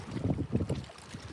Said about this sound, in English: It's snowy, it's windy